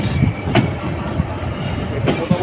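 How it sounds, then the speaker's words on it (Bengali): An express train departs a station, rolling along with a steady rumble and rhythmic clatter of wheels over rail joints, heard close and continuous with no talking. "জামতল স্টেশন থেকেও ট্রেনটি ছেড়ে দিল"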